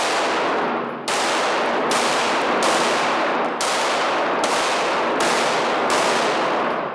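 Pistol gunshots fired with red dot and standard iron sights during a precision shooting stage, seven loud, sharp reports at roughly even intervals about a second apart, sharp cracks ringing over a steady outdoor background, no speech.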